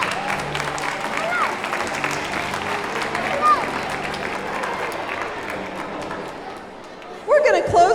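A concert audience claps for the orchestra, a broad sustained wash of applause, with a voice briefly over the crowd near the end.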